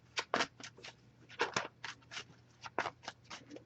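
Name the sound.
shuffling tarot cards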